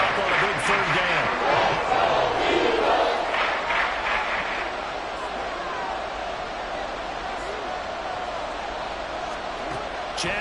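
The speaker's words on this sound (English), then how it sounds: "the crowd getting into it as we come up on a big 3rd down" Stadium crowd cheering and roaring in a Madden football video game ahead of a big third down, a loud sustained wash of noise that swells early and then settles into a steady, slightly softer roar.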